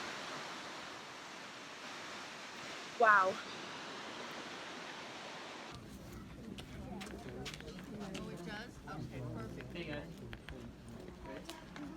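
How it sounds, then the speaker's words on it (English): Steady rushing water from a waterfall beside Mendenhall Glacier in Juneau, Alaska, a broad even roar after a brief exclamation; midway the roar drops away to quieter outdoor ambience with wind and people talking nearby. "I've got the glacier and a waterfall behind me."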